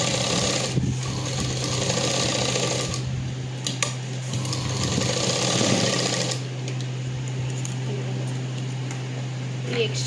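A sewing machine stitches frock cloth with a steady, continuous mechanical whir and hum throughout, close by, with faint background talk.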